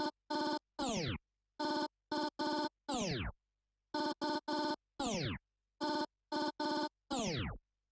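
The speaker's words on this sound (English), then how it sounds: "So if you can't perform the transformer scratch that fast, that's fine. You can just slow it down" A DJ cuts a sample in a slowed-down transformer scratch, chopping the sound into sharp on-off bursts with falling pitch sweeps, loud and in clean groups of stuttered pulses with silence between them.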